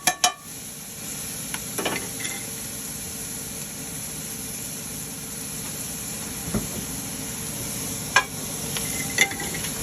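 Garlic sizzles steadily in a pot of Hungarian goulash while being stirred, giving a constant frying hiss punctuated by a few scraping knocks and clinks, with no speech.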